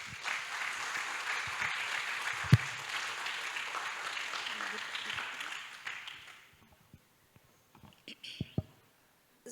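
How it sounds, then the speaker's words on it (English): A lecture audience applauds a guest speaker at a talk about the poet Kabir, with dense, steady clapping for about six seconds that then tapers off to near silence with a few scattered knocks. "Do join me in giving him an applause."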